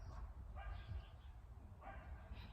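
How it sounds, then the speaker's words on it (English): Several dogs bark faintly in the distance outdoors, a few soft yips and bow-wows rising over low steady background rumble. "Like, we can hear those barking dogs."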